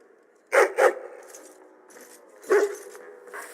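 Two quick dog barks from a hound in Dragon Age: Origins land close together near the start, with a third bark a couple of seconds later, all set against a low game-ambience hum.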